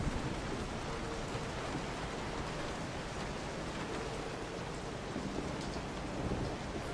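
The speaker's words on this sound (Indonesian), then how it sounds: "Oke, sekarang cuacanya hujan." Steady rain falls with low rumbling thunder during stormy weather in the horror game Resident Evil 7, a dense continuous wash of sound with no speech.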